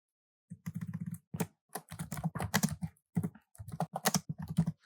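Java code is typed on a computer keyboard in close, clacky bursts of rapid keystrokes separated by short pauses, with no voice over them.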